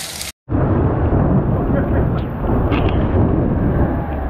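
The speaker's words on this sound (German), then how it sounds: "Und passend zu allem heute gewittert es jetzt noch." A thunderstorm rumbles with a loud, broad continuous roar of heavy rain or rolling thunder after a brief cut, close and dense, with faint higher sounds mixed in, during a motorcycle trip in Portugal.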